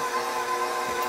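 A kitchen blender mixing tamale batter with milk gives a steady, fairly quiet motor whir with a faint whine, heard briefly and alone.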